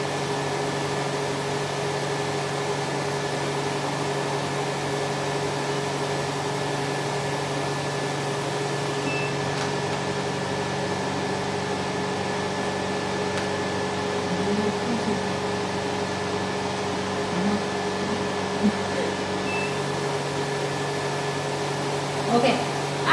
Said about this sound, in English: Let the suction energy suck first.